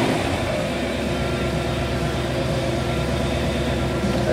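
A Ford engine fitted with Holley EFI idles steadily on its first startup, giving a constant, fairly loud mechanical hum with no talking.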